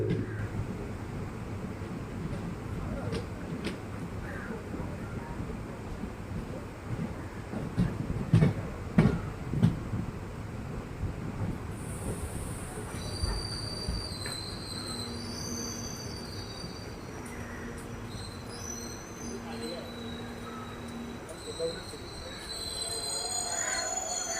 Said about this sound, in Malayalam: ട്രെയിൻ അങ്ങനെ അപ്പം ചങ്ങനാശ്ശേരി റെയിൽവേ സ്റ്റേഷനിൽ നിന്ന് പുറപ്പെട്ടിരിക്കുകയാണ്